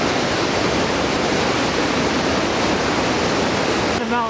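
A fast-flowing mountain river rushes in a dense, steady roar that fills the scene from start to finish, with a brief voice rising over the water near the end.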